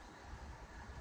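A Sobu Line Rapid Service train runs past Higashi-Funabashi, its steady low rumble and rushing noise heard from inside the carriage.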